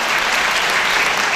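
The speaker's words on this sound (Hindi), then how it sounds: "आप ताली बजाकर उनका अभिनंदन करें।" Audience applause in a university auditorium at a ghazal workshop, a dense, loud and steady burst of clapping from many hands with no voices over it.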